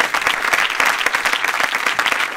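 Dense studio audience applause at a Spanish comedy talk show, steady and loud throughout with rapid overlapping claps and no voices on top.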